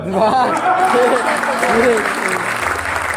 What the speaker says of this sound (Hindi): हमारे ये मीडिया के लोग ताली बजा रहे हैं